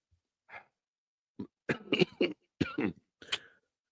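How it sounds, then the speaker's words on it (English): A few sharp coughs come in a quick irregular cluster, close and fairly soft, with a faint breath before them. "Made you cough."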